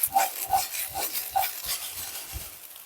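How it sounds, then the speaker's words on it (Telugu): Basmati fried rice being turned gently in a pan from top to bottom, heard as soft rhythmic scraping stirs with faint clinks, close by and moderately quiet, with no talking. "లైట్గా ఇలాగ పైన అలా కింద నుంచి అలా తిరగేసినట్లుగా కలుపుకొని"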